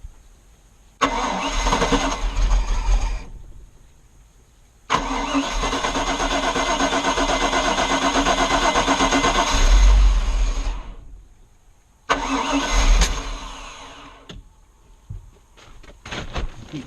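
A Chevy 350 boat engine cranks and catches in three separate attempts, running loud and close for several seconds each time, the longest a rough idle of about six seconds that swells before cutting out.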